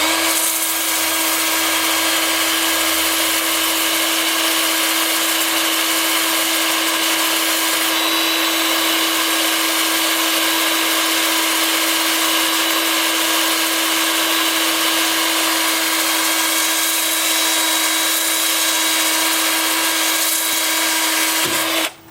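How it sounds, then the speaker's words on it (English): A wood lathe spinning forward at about 350 RPM while turning a cracked wooden piece, giving a steady, close, continuous mechanical hum with a constant motor tone and broadband whir, running unbroken alone before cutting off at the end. "with the lathe spinning forward at about 350 RPM"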